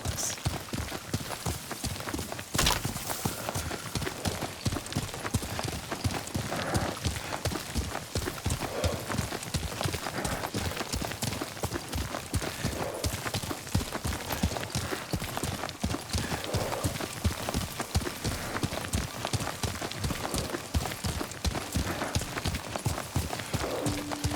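Steady clip-clop of horse hooves at a gallop in the video game Ghost of Tsushima Director's Cut, continuous and close, with a brief snort near the start and faint background ambience.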